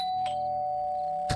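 A doorbell chime sounds in the video game 7 Days to Die as one sustained electronic tone that rings steadily for over a second, with a soft click near the start and a brief thump near the end.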